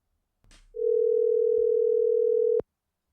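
A steady telephone dial tone holds for about two seconds after a brief handset click, then cuts off sharply into silence.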